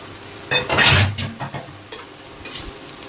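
Pointed gourd peels fry in a little oil in a pan with a loud crackling sizzle, broken by several bursts of stirring and scraping.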